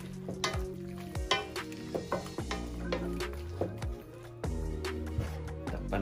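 Chicken and mixed vegetables sizzle in a hot pan while a utensil stirs them, with repeated close scraping and clacking strokes over a steady frying hiss.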